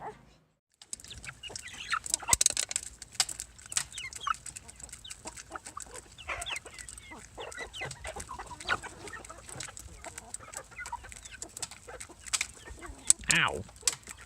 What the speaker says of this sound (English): the chicks are the Silver Wyandottes